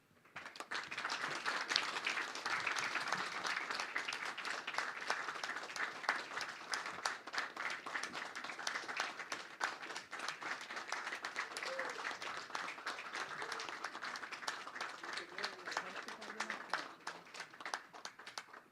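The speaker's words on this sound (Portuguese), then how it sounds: "recebam agora a nova acadêmica com uma salva de palmas" Sustained applause from an audience at an academy induction ceremony, welcoming a new academician: steady dense clapping that runs unbroken for the whole stretch at moderate level.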